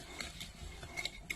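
Almond powder stirred into a galette des rois frangipane mixture with a whisk in a bowl, giving soft, steady scraping and swishing with a few light clinks against the side, fairly quiet and close.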